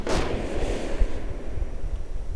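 An incendiary trap in a video game goes off with a sharp, loud burst, then settles into a dense, rumbling crackle that carries on steadily to the end.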